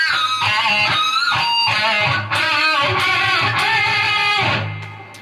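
Electric guitar plays a section of a solo, a steady stream of sustained, bending lead notes over a low backing, loud and close with no talking.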